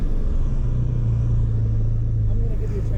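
A Volkswagen MK7 Golf rolls out from a short paddock onto a tight, curvy race track at a time attack test day, its engine giving a steady, close low rumble with a sustained drone throughout.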